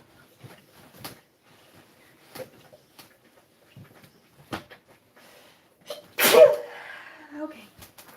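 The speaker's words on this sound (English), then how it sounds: "need to sneeze" A single sharp, close sneeze bursts out after a few quiet sniffs and small sounds, followed by faint rustling.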